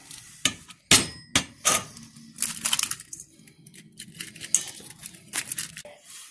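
A spoon knocks and scrapes against a bowl in irregular sharp clinks and scrapes, mixing salt and egg into a gnocchi dough, close and fairly loud.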